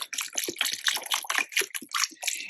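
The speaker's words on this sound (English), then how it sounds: "I'm going to put the coconut broth in" Store-bought coconut broth pours into a pot of Thai chicken soup, a close, steady glugging splash with rapid bubbling pulses, heard alone.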